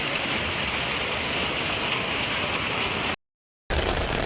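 Dense, steady rain patters loudly on an umbrella, a constant hiss that cuts out briefly near the end, then resumes.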